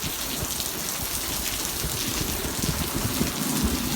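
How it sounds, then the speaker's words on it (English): Heavy rain pours and blows sideways onto outdoor chairs and a table, a loud continuous wash of drops splattering on surfaces with faint rumbling underneath, no voices. "never get rain like this."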